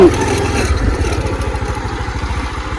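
Motorcycle engine running steadily at close range while riding on a road toward the Manelle site, with a continuous low, pulsing rumble and no voices.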